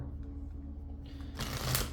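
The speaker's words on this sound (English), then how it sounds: "We're going to shuffle one more time and we'll get started for your reading for today." A deck of tarot cards being shuffled by hand during a reading, a soft close riffle swelling into a brighter flurry near the end, with no talking.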